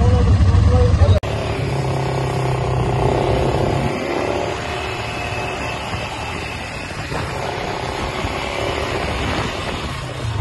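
A quad bike in the desert pulls away gently after a sharp click, its engine droning steadily at low revs close to the microphone, with voices talking over it.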